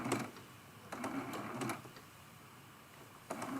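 Sewing machine stitching around a quilted cookie cutter ornament in short bursts of quiet mechanical whirring, separated by pauses, close but faint, with no speech.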